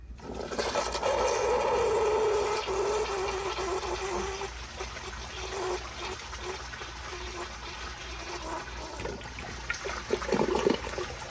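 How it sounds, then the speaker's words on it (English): A 2010 American Standard Baby Devoro toilet flushes with a loud, close rush of water that gradually eases into a gurgling drain and refill, with a few louder gulps near the end. "let me give y'all another flush and we'll see how it does"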